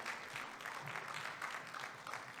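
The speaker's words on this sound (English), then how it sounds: "Can we give another round of applause, please?" Audience applause at the British Urban Film Festival Awards 2024 ceremony, a steady dense clapping from a crowd sustained throughout without a break.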